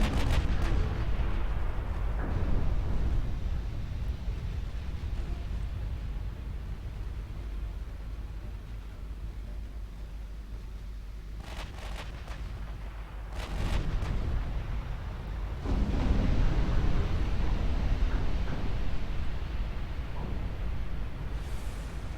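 Naval gunfire from warships in Ultimate Admiral Dreadnoughts, a steady roar of heavy booming broadside fire with loud bursts at about 2, 13 and 16 seconds, rumbling continuously and close.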